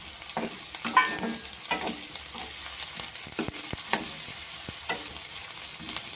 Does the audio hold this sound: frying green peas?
yes